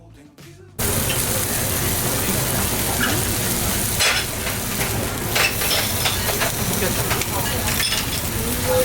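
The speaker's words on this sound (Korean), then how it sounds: "각자 취향에 따라 개인 돌판에 원하는 만큼 구워서 먹는 시스템입니다" Breaded beef cutlet, flash-fried beef tenderloin, grilling on an individual hot stone plate, giving a steady close sizzle and frying crackle that starts abruptly and carries on with small pops.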